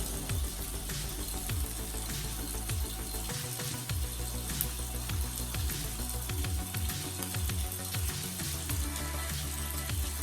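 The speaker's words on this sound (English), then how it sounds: "So I count to 20 slowly while I wash my hands, and then I rinse well and then dry." Hands being washed with soap under warm running tap water: a steady, hissing stream pours into a sink, with soft splashes and rubbing throughout, fairly faint and unbroken.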